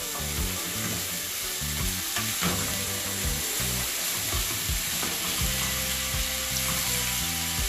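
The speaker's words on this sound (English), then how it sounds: "I'm going to leave my season to saute for probably like about 6 minutes." Natural seasonings sauté and sizzle in a pan for escovitch chicken, with a steady loud frying hiss and scraping stirring strokes throughout, and no talking.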